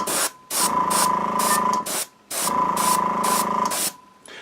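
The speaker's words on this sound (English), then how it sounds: "We're going to spray from the top at about a 45-degree angle all the way around" An airbrush sprays paint onto a miniature figure in two long, steady hissing bursts with a brief pause between them, close and fairly loud, with no talking.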